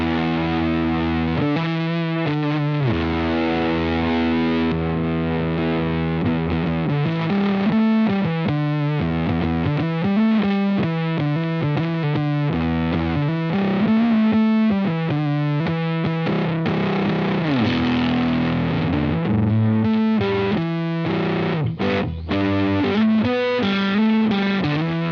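Heavily fuzzed electric guitar through a Lytt Effects Dead Bolt overdrive pedal pushed into fuzz, playing sustained chords and riffs with thick, saturated distortion and audible noise, loud and continuous with no talking.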